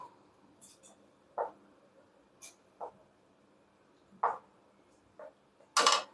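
Mustard and fenugreek powder are stirred into tomato thokku in a pan, heard as sparse, soft metallic taps and scrapes of a spoon against the pan, about eight in all, in a quiet kitchen.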